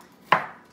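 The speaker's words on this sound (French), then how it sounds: "on va couper nos légumes" A single sharp knife chop on a cutting board while preparing vegetables such as peppers, celery, carrots, tomatoes and green onions, close and clear with a short ringing decay.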